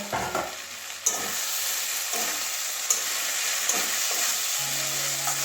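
Potatoes, carrots and spring onions fry in a pan, a steady close sizzle punctuated by several sharp stirring knocks and scrapes, with a faint hum toward the end.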